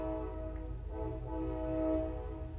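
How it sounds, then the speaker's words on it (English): A train passes outside during an indoor talk, heard as a muffled, steady rumble with a sustained tonal horn-like drone that swells slightly toward the end, fairly distant and low in level. "There's a train going by."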